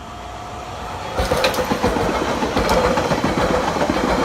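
A French train on line H of a suburban rail line pulls away from a station platform, a loud, steady rumbling of wheels and engine that rises suddenly and keeps clattering nearby; no speech over it.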